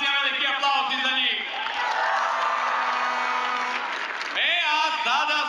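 A large crowd at a volleyball world title celebration for Serbia's champions claps and cheers loudly and continuously, with whoops rising through the noise.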